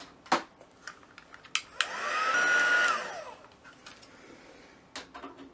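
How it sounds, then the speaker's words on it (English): A heat embossing tool gives a short hot-air whoosh lasting about a second, rising and falling in pitch, set among scattered clicks and taps from card making at a craft table. "And fetch your embossing tool."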